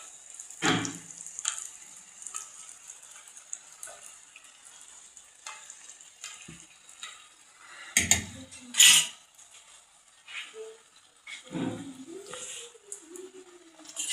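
Hot oil spooned over frying donuts gives soft intermittent sizzles between quiet gaps, with scattered clinks of a utensil against the pan, close and fairly faint.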